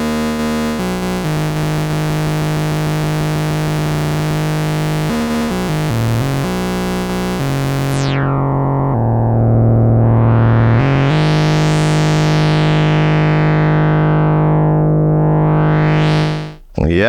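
A buzzy square-wave tone from a Behringer Model 15 synthesizer holds and steps between pitches, then sweeps up and down in filtered swoops, loud and continuous with no talking.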